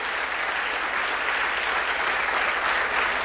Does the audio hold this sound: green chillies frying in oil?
no